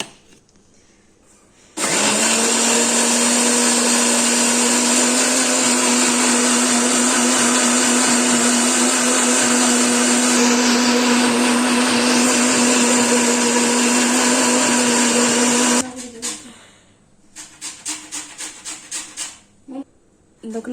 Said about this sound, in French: Donc je ferme et je mixe le tout et on revient.